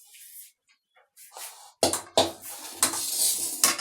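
Jackfruit pieces being tipped into a cooking pot for a mutton-style jackfruit curry, heard as sharp metallic clanks and scraping of utensils against the pot, a few quiet clinks first and then louder, rapid clatter close by.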